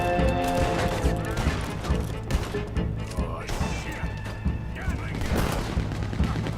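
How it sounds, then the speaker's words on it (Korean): Rapid machine gun fire bursts in the video game Red Dead Redemption 2, dense and loud with crackling shots and impacts, with someone talking excitedly over the gunfire. "와 기관총이야"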